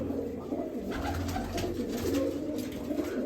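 Pigeons coo softly and repeatedly at a loft, their low rolling calls close by over a faint steady background hum, with no one speaking.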